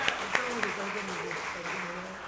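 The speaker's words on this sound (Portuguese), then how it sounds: "Uma salva de palmas para Humberto Magalhães." Audience applause at a formal solemn session, moderate and even in level, with a few sharper claps early on and a voice carrying over it.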